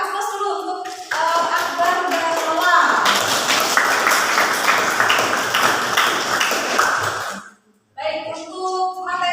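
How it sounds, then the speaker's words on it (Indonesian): A classroom audience claps for two students for about six seconds of dense, close applause, with a voice speaking just before and after. "Berikan aplaus dulu untuk Akbar dan Lola"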